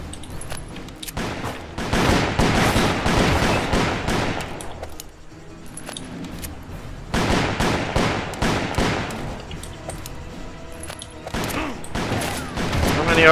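Sentry Gatling turret in the Call of Juarez PC game firing long rapid bursts of loud gunfire, broken by a brief lull before the rattling volley resumes.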